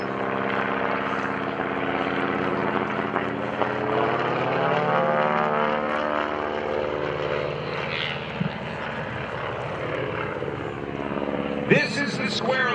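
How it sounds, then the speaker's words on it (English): A propeller airplane, underpowered for its routine, flies aerobatics at a Blue Angels homecoming airshow, its engine droning steadily and shifting in pitch through the maneuvers while an announcer talks over it and crowd noise rises near the end. "this is a grossly underpowered airplane for the kind of aerobatics that John Mohr flies."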